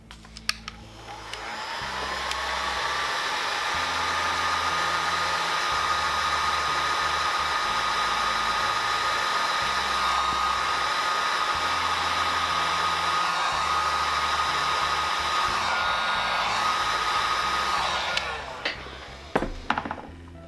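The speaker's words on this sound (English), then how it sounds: "We're going to hit this with the heat gun." A heat gun blows steadily on a sticker on a videocassette sleeve, a loud, even hot-air roar with a whining tone that runs for about eighteen seconds, then cuts off with a few faint handling clicks.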